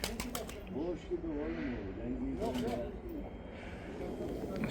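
Pigeons of the Dumanlı breed line coo softly in a coop, low murmuring calls half buried under someone talking close by throughout.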